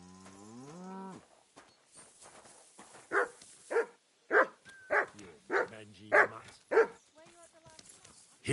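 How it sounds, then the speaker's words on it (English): A dog in the video game Kingdom Come: Deliverance II barks in a rapid run of loud, close barks after a drawn-out lowing call, with voices nearby. "You better call back that dog."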